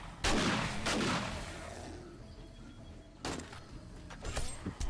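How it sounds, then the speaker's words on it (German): Gunfire in the video game 7 Days to Die during a blood moon night: two sharp, loud shots a few seconds apart, each with a short ringing tail, over a quiet background. "Ein Schuss."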